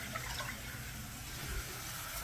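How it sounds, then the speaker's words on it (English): Water runs from a kitchen sink tap into a cup in a steady, continuous gushing hiss, close and moderately quiet, with no talking. "Just going to run water here out of the sink."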